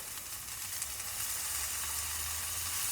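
Butter sizzles in a frying pan with a steady, close, hissing crackle that stays even and alone, without any talk.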